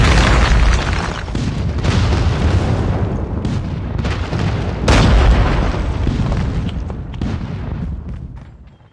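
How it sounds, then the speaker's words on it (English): A friendly airstrike in a video game lands as a loud run of heavy explosions, with booming blasts and rumbling bursts that fade away at the end. "Friendly airstrike incoming."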